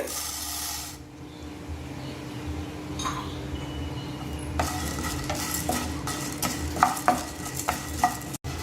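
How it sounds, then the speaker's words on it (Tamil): Whole spices for sambar powder, peppercorns among them, dry-roasted and stirred in a pan over low heat: a soft steady rustle for the first half, then busier scraping with sharp clinks of the spoon against the pan, close by. "இதையும் வறுத்துருவோம்."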